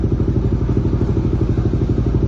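Motorcycle engine fitted with an Aracer RC Mini X ECU idles on its stand, a steady, close, lumpy low putter with a regular pulsing beat, no talk.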